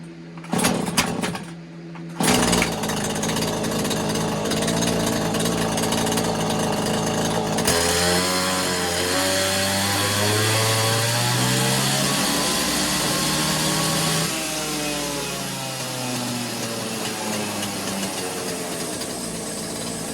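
A Neotec 843 43cc chainsaw engine, a Husqvarna 543XP clone, on a dyno pull: sputtering starts, then a loud sustained two-stroke whine that revs up and climbs in pitch before easing back to a steady drone.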